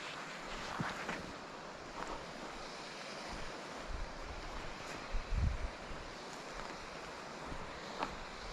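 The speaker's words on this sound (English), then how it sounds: "The wind's carrying the sound of the water" A steady rush of a distant stream blends with gusting wind carrying its sound, with occasional buffets of wind hitting the microphone.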